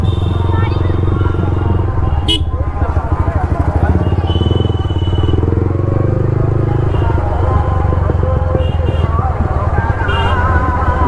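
A motorcycle fitted with an aftermarket exhaust idles and revs loudly at a crowded fair, a steady throbbing engine close by beneath a babble of voices and talk.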